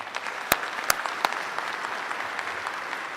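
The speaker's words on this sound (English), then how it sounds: "let's give Stephen and Siegfried a big round of applause" A conference audience at a security talk applauds, steady crowd clapping with a few louder individual claps standing out near the start.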